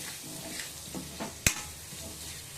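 Spices temper in hot oil for a dry fish curry, giving a soft, steady sizzle broken by light stirring and one sharp utensil clink near the middle.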